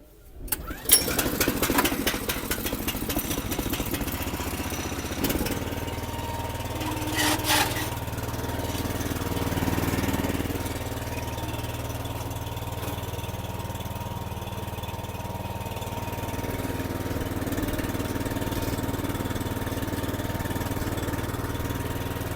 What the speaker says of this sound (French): je vais te faire voir comment elle démarre